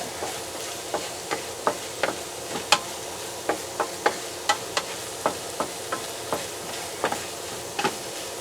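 Spare ribs sautéing in a pan with onion and garlic: a steady sizzle broken by regular, sharp clinks of a utensil stirring against the pan, close and without talking.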